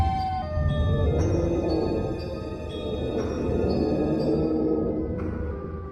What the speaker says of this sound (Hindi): सॉन ने तो अपना ही सायरन बजा दिया है।